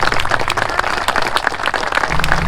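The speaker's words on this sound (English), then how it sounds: "So big round of applause just for all of you who came in." A crowd applauds at an outdoor Willys Jeep gathering, a brief burst of dense, even clapping close by with no talk over it.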